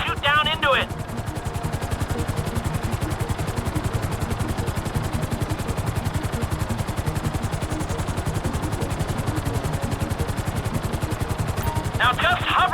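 A GTA V helicopter hovers with a loud, fast, continuous rotor thump filling the whole stretch, while brief bursts of gunfire crackle near the start and end.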